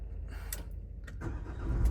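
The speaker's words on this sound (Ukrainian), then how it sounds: "Тепер робимо запуск, запустимо." A 2019 Renault Master van with about 97,000 km on it starts up, its engine catching with a short burst and settling into a low, steady rumble that builds toward the end, close by and with no talk over it.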